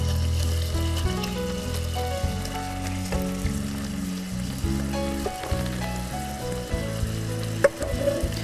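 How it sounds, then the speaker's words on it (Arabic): Chicken pieces sizzle and crackle in hot oil in a pan, a dense close frying hiss with occasional sharper pops, steady throughout with no voices. "دلوقتي ابتدت الفراخ تتحمر"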